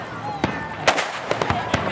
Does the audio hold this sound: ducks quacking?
no